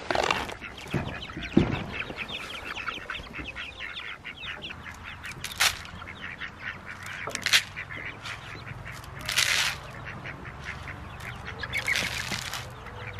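Black Copper Marans and Olive Egger hens in a coop, giving scattered clucks and short squawking calls at irregular intervals, some loud bursts close by over a low background hum.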